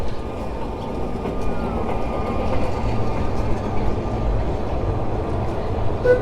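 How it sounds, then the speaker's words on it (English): A crowded tram rumbles past close by in Port de Sóller, Mallorca, a steady low rolling drone with faint rail squeals above, holding level for several seconds. "Here we have another tram coming past us too"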